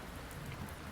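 Heavy rain pours steadily outside a video game cafe, a dense, even hiss of downpour with no breaks, moderately loud.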